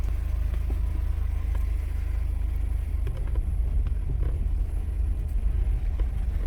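A car on a test drive after a sensor swap, with a low steady engine and road rumble inside the cabin and faint clicks and bumps over the drone.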